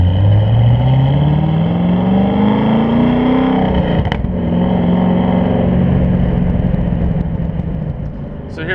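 Loud onboard engine note of a 636 HP Chevrolet Camaro Z/28 on a drag strip track, rising steadily in pitch under acceleration, dipping after a sharp click, then droning on at high revs with a voice faintly underneath.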